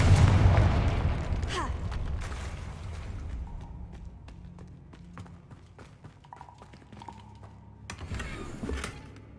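A Confringo explosive spell blast in Hogwarts Legacy hits with a heavy, booming low thud at the start and fades into rumbling debris, followed by quieter scattered clatters and footsteps.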